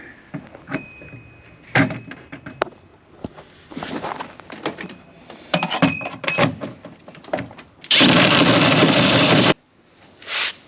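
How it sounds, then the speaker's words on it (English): Hole saw cutting into the floorboard of an E46 sedan during a roll cage install, heard as a burst of harsh metallic grinding near the end after scattered clanks, taps and handling noises. "we just got to punch a hole in the floorboard right here"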